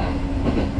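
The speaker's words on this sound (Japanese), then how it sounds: "電車はただいま東伊豆海岸線を通過しております。" Train running along the East Izu coast line, heard from inside a carriage as a steady low rumble with faint wheel clatter, continuous and close throughout.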